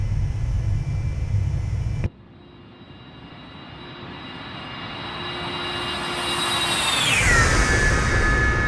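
A jet airliner makes a flyby over London in the X-Plane 11 flight simulator, with a steady engine roar and a rising whine that builds, then sweeps sharply downward in pitch as it passes close by.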